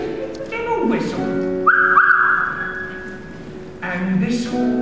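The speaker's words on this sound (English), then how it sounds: "give a whistle." A person whistles a tune in a sung comedic number, sustained bright whistled notes with a long held tone in the middle, over a quiet background accompaniment.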